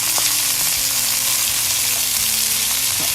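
Beef short ribs searing in a hot pan, a loud, dense, continuous sizzle close up with faint bumps of the meat being moved.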